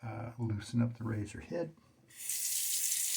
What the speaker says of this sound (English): Running water between there.